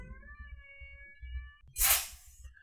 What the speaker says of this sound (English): I've never heard a cat make that noise before.